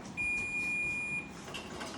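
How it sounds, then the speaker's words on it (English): A kitchen timer for steaks cooking in a pan sounds one long, high, steady electronic beep lasting about a second, then a short faint chirp, fairly quiet in a still kitchen. "there's our timer for the steaks"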